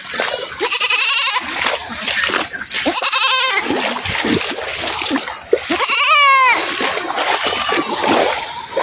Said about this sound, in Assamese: এতিয়া ছাগলী উঠাই নিবলগীয়া হৈছে, ছাগলী পূৰা পাৰ কৰিবলগীয়া হৈছে